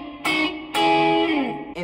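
Close-up distorted electric guitar plays the ending of the Dr Robotnik boss theme from Sonic 2: a few sustained, buzzy chords with a sliding bend, each cut off sharply, and no voice.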